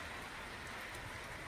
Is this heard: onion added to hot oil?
no